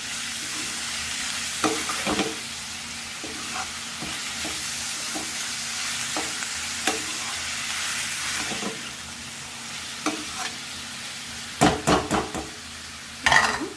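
Prawns and onions frying in oil in a pan for a homemade prawn and drumstick curry, a constant low sizzle broken by occasional stirring scrapes and a few sharper clatters near the end, no talk.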